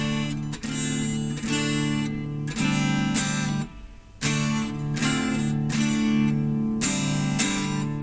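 Strummed rhythm guitar in open tuning plays the intro of a song: repeated bright chord strokes in an even pattern, with one brief pause before the strumming resumes.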